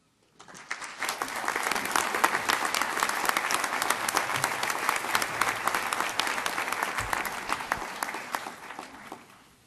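Audience at an inauguration ceremony breaks into sustained applause, dense clapping from a large crowd that swells quickly, holds loud and steady for several seconds, then fades out.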